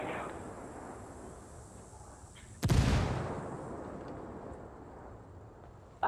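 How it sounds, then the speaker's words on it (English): Grenade blast in Ghost Recon Wildlands: a single heavy, booming explosion midway that rolls off over a couple of seconds against a background of game ambience. "Frag out."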